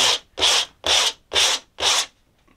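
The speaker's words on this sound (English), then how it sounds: "the sandpaper is just getting clogged straight away" Sandpaper rubbed by hand over adhesive residue on an Audi removable hard top headliner, five steady back-and-forth strokes, close and loud, with brief pauses between.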